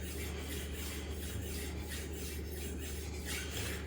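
A HORL 2 rolling sharpener grinds the edge of a Takamura R2/SG2 steel knife, producing a continuous faint rasping scrape with a soft rhythmic pulse as the roller moves back and forth, with no talking.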